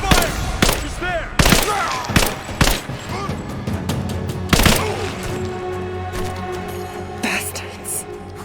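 Sharp, loud gunshot bursts crack out in irregular clusters during a firefight in Rise of the Tomb Raider, with several heavy blasts standing out over a busy battle bed while voices call out.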